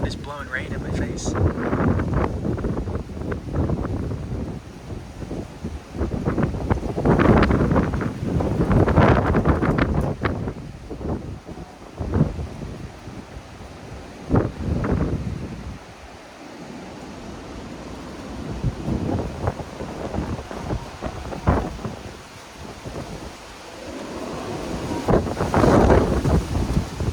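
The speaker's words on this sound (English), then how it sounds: "this wind is blowing rain in my face" Strong thunderstorm wind gusts buffet the microphone in loud, surging bursts with rain blowing, easing briefly midway before rising again, while a person talks at times underneath.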